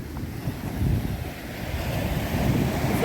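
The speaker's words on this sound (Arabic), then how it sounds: "الموج بتاعها بيبقى عالي جدا" Surf rolling in at Ras El Bar beach on Egypt's coast near the start of Palm Beach, where the waves run very high: a steady, broad wash of breaking sea with wind buffeting the microphone, no voices.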